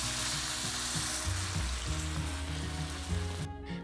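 A pan sizzles and fries steadily as good-quality chicken stock goes in for a slow cooker chicken casserole, a busy crackling hiss that stays loud and close, then cuts off abruptly near the end.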